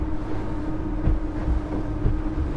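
Electric sportsboat cruising at about 7 knots, 1200 RPM, with a steady low hum and water rush plus a few soft thumps of the hull on the water, constant and close, no talk.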